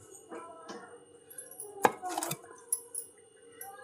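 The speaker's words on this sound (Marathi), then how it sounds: "तर टॅमॅटो एक चिरून घेणार" A tomato chopped with a knife, a handful of soft, close cuts and taps on a board spaced irregularly, fairly quiet, with faint household noise around them.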